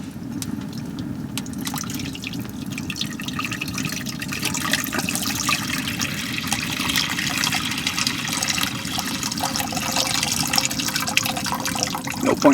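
Warm water poured steadily into a pan in a hot tent, a continuous close splashing and trickling that lasts throughout with no talk.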